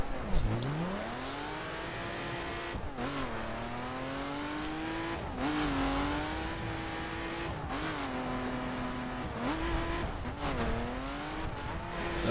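A BMW Z4 races in the video game The Crew, its engine revving continuously and swinging up and down in pitch through gear changes, loud and close, with brief tire and landing noises between surges.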